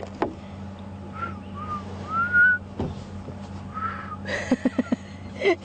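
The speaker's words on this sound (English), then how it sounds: "Struggling to whistle." A person with a dry mouth whistling, thin, wavering notes interrupted by clicks and breathy gaps, ending in a few short, choppy whistle bursts close by.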